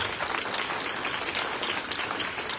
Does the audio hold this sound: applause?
yes